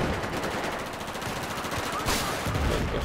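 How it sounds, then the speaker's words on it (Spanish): Steady, rapid automatic gunfire from the video game Battlefield 4, on PC, a continuous rattling barrage with a louder burst toward the end and no talk. "Y salgo y me están disparando."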